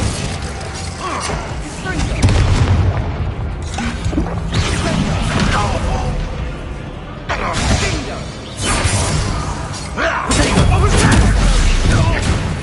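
Bombarda spell blasts in the video game Hogwarts Legacy, heard as several loud crashing, shattering booms with whooshes and debris over a busy, dense soundtrack.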